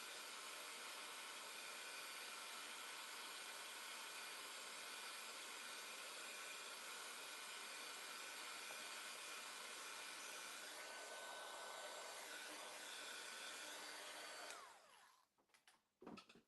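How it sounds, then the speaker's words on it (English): A heat tool blows steadily to dry a stencil mask, a loud continuous fan-and-air roar that runs unbroken for most of the stretch, then cuts off abruptly near the end, leaving a few faint handling noises. "Somebody unplugged my heat tool."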